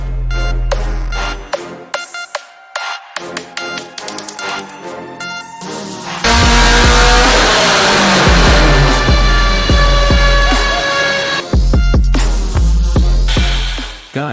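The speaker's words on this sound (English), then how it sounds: "are now going to the dyno to measure the car" Mitsubishi Lancer Evolution X with a 700 HP engine on a dyno: loud, harsh engine noise with choppy bursts early on, then a sustained high-revving roar for several seconds, dropping off and surging again near the end.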